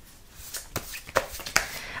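Tarot cards being shuffled by hand, a soft run of papery riffles and slaps with a few sharper flicks, close and fairly quiet, with no talking.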